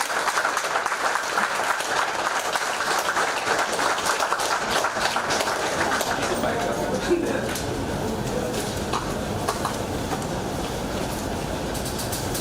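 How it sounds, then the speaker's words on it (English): An audience claps steadily and densely for officers at a formal archaeology department function, a sustained, even wash of applause lasting throughout without letting up. "kindly give a warm round of applause for all the respected officers"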